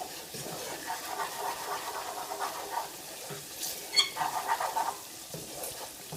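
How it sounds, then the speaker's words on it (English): Flour is stirred into a roux over lowered flame for a Czech lentil sauce, producing a soft, fairly faint sizzle with gentle scraping strokes of a spoon in the pan. "add 1/4 of a cup of all-purpose flour. And now you want to stir it."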